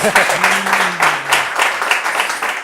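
An audience at a youth event claps for two pageant contestants, a brief burst of applause over a few seconds that starts just as a voice finishes speaking.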